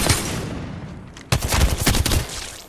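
Rapid bursts of death ray gunfire in the Apex Legends video game, loud and continuous with a brief break before a second dense volley.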